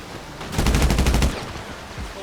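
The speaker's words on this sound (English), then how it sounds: "Land and shoot the gunner on foot." A rapid burst of automatic gunfire, about ten shots in roughly three-quarters of a second, rings out loud and close in a video game firefight against a gunner on foot, followed by a faint trailing echo.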